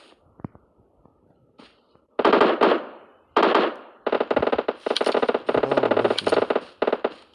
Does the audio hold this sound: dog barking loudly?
no